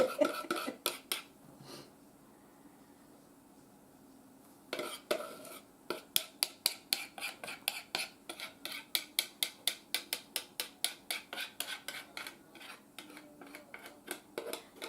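A utensil scrapes the last of the cream out of a nearly empty container, a long run of sharp, evenly spaced scraping strokes, close and fairly loud, broken by a short quiet pause near the start.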